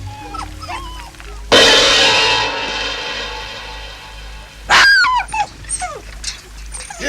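Cartoon dogs whimper and yip throughout, with a burst of loud barking and a rush of noise partway through, then more high whines and yelps close by.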